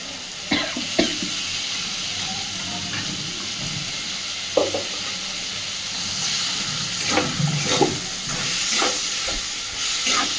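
Ginger-garlic paste hits hot oil with potatoes and snails in a pan, giving a steady sizzle and hiss with occasional sharp scrapes and clacks of a stirring spoon, close and loud, with no talking.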